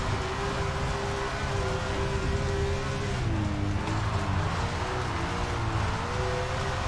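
Race car engine in SRX: The Game, a steady, loud drone held throughout with the pitch sliding down and back up as the throttle is worked, alone with no talk.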